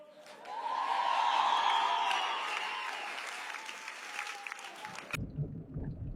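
An audience gives warm applause for a singer. The clapping swells quickly into a dense, sustained ovation with some cheering, thins slightly, then cuts off abruptly into quieter room noise.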